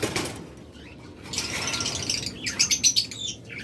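Pet budgerigars, cockatiels and lovebirds in a shop chirp and squawk in scattered bursts, several birds calling at moderate volume over faint background noise.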